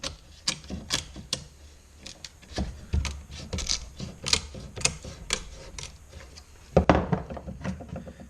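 Leftover wood pieces are snapped out of the grooves in door rails and stiles with a chisel and pliers, giving a close series of sharp cracks, ticks and small knocks at an irregular pace, with one louder snap near the end.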